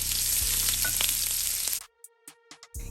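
Grilled shrimp sizzling loudly in a hot pan for a cheesy fajita skillet, a dense steady hiss that cuts off abruptly, leaving near silence with a few faint clicks before the sizzle returns briefly.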